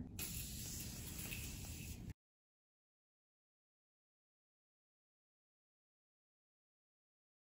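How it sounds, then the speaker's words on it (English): A makeup setting spray misted for about two seconds: one steady, bright hiss, close and fairly loud, then silence. "And now for the final touch, setting spray."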